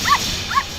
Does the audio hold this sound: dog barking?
yes